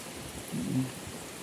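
Steady rain falling outdoors in a barangay in Lopez, Quezon, a soft continuous hiss with a brief low rumble partway through, with no voices.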